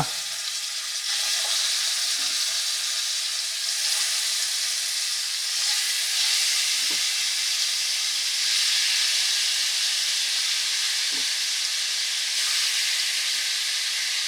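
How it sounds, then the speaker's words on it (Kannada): Chicken tandoori pieces fry in hot oil, giving a loud, steady, bright hissing sizzle throughout, with a handful of faint low thuds and taps scattered through it. "ಈಗ ಒಂದೊಂದೇ ಪೀಸನ್ನು ನಾವು ಎಣ್ಣೆಗೆ ಹಾಕೋಣ"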